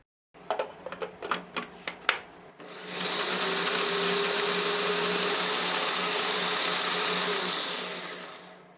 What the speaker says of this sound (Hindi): फिर आप इन्हें फूड प्रोसेसर में डाल के ग्राइंड कर लें।